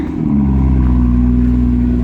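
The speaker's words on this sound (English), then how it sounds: "let's do the cold start of a not so cold car" A Ferrari 812 Superfast V12, not fully cold, fires up and settles into a loud, deep, steady idle with a strong low rumble close by.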